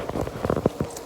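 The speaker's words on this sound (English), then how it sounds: "I'm actually outside in the rain" Rain falls outdoors in Jamaica, heard as irregular close drops pattering on a surface in quick bursts, fairly loud, with no voices.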